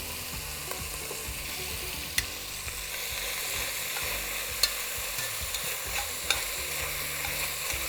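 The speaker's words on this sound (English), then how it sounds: "Continue browning until we finish browning all of it." Ground meat browning in oil for Texas chili while being stirred, a moderate steady sizzle with spatula scrapes and a few sharp clicks against the pot throughout.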